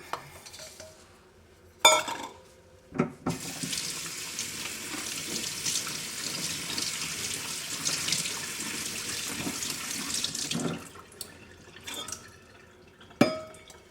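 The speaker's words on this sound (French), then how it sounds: "Alors on prend l'avoine que je vais rincer." Tap water running steadily into a sink while oats are rinsed, with a few clinks of a pot or utensil at the start and end.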